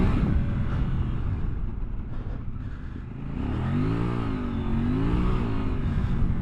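A Kove 800X Pro adventure motorcycle accelerating hard, its engine note rising and swelling in pitch over steady wind and road roar, loud and close.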